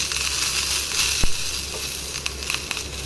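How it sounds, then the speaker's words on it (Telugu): Dried chillies fry in hot oil with a bright, continuous sizzle, broken by a few sharp crackling pops near the pan. "మిరపకాయలు వేయించినప్పుడు కొంచెం జాగ్రత్తగా ఉండాలండి, ఒక్కొక్కసారి అది చిట్టుమని పేలుతాయి"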